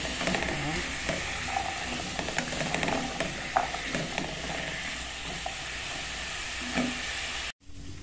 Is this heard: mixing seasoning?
yes